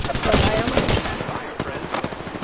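Gunfire in the Apex Legends video game crackles in rapid, dense bursts, loud and busy with other game noise, fading slightly toward the end.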